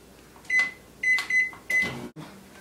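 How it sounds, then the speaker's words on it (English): A run of short electronic beeps in quick groups over a low steady hum, followed by a click like a door latching. "Next, you're going to want to put that in the microwave"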